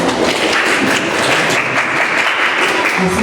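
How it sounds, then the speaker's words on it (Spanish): An audience at a writers' gathering welcomes a director with loud, sustained applause, a dense wash of many hands clapping at close range without pause. "a quien le vamos a recibir con un fuerte voto de aplauso"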